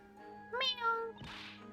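A cat meows twice in the Professor Layton vs Phoenix Wright video game, a short, bright call followed by a softer second one over quiet background music.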